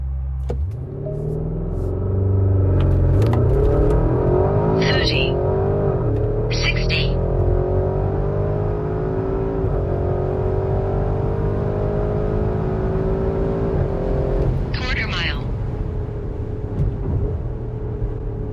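A 2024 Porsche Cayenne Turbo GT accelerates during a test run, its engine rumbling and rising steadily in pitch through long pulls, heard from inside under continuous talking with a few brief shifts.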